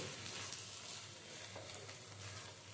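Sesame bottle gourd curry being stirred in a pan over a low flame, a soft steady sizzle with gentle scraping throughout, close and continuous with no talk.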